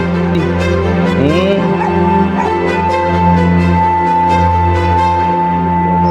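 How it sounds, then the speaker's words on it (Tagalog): Dogs yip, whimper and bark in a noisy chorus with a steady hum beneath, several calls close by and overlapping through the whole stretch. "Daming aso"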